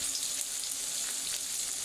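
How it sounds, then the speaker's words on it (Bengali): Onions fry in a pan with a constant bright, hissing sizzle that stays even and close throughout, with no talking over it. "পেঁয়াজ ভাজা হচ্ছে"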